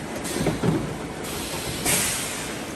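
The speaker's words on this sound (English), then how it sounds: "Testing 5 liter piston filling machine" A high-speed 5 liter lubricant oil piston filling machine running, with a steady mechanical rumble broken by bursts of pneumatic hiss as the pistons cycle.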